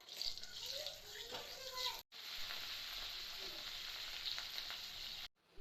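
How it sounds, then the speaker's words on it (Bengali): Fish roe fries in oil seasoned with salt and turmeric in a kadai, giving a continuous close sizzle and crackle that cuts out briefly twice. "আমি মাছের ডিম ভাজতেছি"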